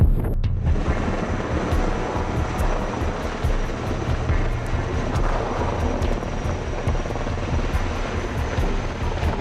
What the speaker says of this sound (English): The air crane Sikorsky S-64 placed 291 individual trees in the project.